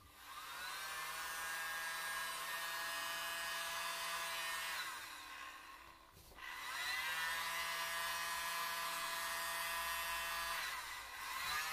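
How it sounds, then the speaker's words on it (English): A mini blower runs in two long bursts with a brief dip between them, blowing air over a poured resin coaster and making a steady, close, high-pitched whine. "So I'm going to get this, my mini blower, and just try and do it at an angle."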